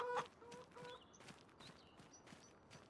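Purchased chickens cluck in the farming game Farming Simulator, a few short, close clucks and scratchy footstep-like sounds with no talking.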